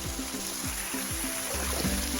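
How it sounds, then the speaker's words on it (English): Waterfall at a cold plunge pool in Big Tujunga Narrows canyon, a steady broadband rush of falling water filling the scene at close range, with low thumping pulses underneath and no talking. "I got a nice beautiful waterfall here"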